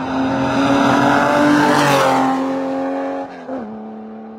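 A Porsche race car in the Carrera Panamericana road race roars past up close, its loud engine note climbing and then dropping away as it moves off, followed by a brief shift in pitch.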